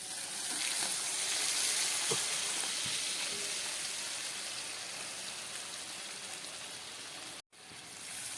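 Water hits a hot pan of fried cumin, ginger, chilli and black pepper, setting off a loud, hissing sizzle that stays close and steady, eases slightly, then cuts off briefly near the end.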